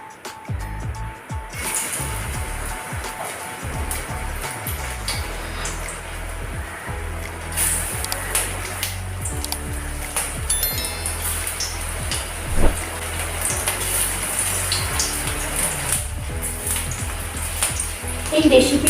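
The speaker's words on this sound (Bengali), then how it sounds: "এইবার আমি কুঁদরিগুলোকে একটা একটা করে তেলের মধ্যে দিয়ে দেবো।" Ivy gourd fritters sizzle and crackle steadily as they go one by one into hot mustard oil in a kadai, a dense close frying hiss with scattered pops from start to finish, and no one speaks.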